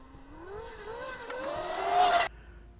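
An electric go-kart powered by a SurRon motor accelerates hard with a rising whine that climbs steadily in pitch over about two seconds, then cuts off abruptly; close and fairly loud, with no voices.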